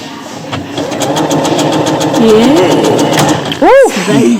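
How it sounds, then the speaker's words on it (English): A sewing machine stitching a button onto fabric, its motor running in a steady rapid whir with fast needle ticks, loud and close, ending in a rising and falling mechanical whine. "I'll just start stitching now"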